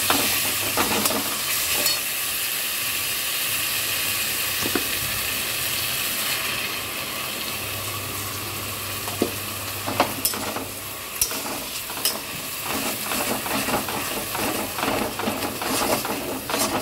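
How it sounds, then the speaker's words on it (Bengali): Masala sautés in a pan with tomato paste added for a mutton curry, a continuous close sizzle and hiss broken by repeated scraping and clinking of a stirring spoon against the pan. "ভালো করে কষানো হচ্ছে, এবার আমি এর মধ্যে টমেটো পেস্টটা দিয়ে দিচ্ছি।"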